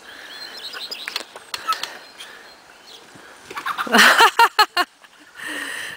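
Chickens on a homestead flap their wings in loud, rapid bursts of beating, with faint clucking and rustling in the background.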